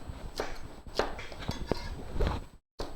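Bell pepper sliced into bite-size pieces with a knife on a cutting board, several distinct close chops at an irregular pace, quiet overall with a brief silent gap near the end.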